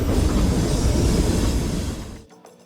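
A loud, close rumble of a scenic railway train rolling along the rails at White Pass summit near Skagway, Alaska, steady and heavy, then abruptly dropping away near the end.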